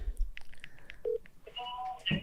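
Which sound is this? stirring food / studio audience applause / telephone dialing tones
telephone dialing tones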